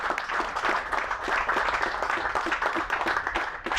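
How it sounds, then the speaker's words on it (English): A hall-of-fame banquet crowd applauds a 1996 high school wrestling team with a continuous, fairly loud patter of many hands clapping that holds steady from start to finish. "So a big round of applause for the 1996 Bay City Western Wrestling team."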